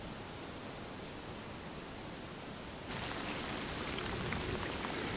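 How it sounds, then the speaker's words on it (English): Hard rain pours down as a steady, dense hiss that suddenly grows louder about halfway through, then continues at an even, heavy level with no voices. "But it started raining hard"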